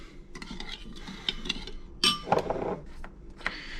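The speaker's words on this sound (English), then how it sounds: "after I get done stirring this together" Pepper and spices being stirred into a Swedish pizza salad dressing: soft scraping and light clinks of a utensil against a bowl, with a louder clatter midway, close and fairly quiet.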